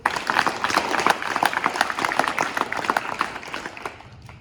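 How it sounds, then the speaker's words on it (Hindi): Students at a government senior secondary school event clap together in dense, steady applause that holds for several seconds, fairly loud and close, then tapers slightly toward the end. "बेटा तालियां हो जाओ।"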